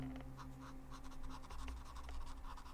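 A Copic Ciao alcohol marker with a firm nib scratches and rubs softly across paper during blending, a faint continuous scraping with low hum underneath.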